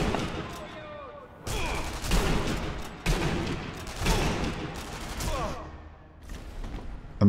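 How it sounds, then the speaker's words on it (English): Rapid volleys of gunshots crack back and forth in Sniper Elite V2 online multiplayer, a dense fusillade of sharp rifle and machine-gun bursts at varying distances, with brief lulls between clusters of shots. "they're shooting each other"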